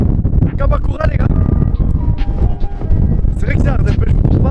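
Strong wind gusting at Kamakura, Japan, roaring as loud continuous buffeting across the microphone, with people talking over it throughout.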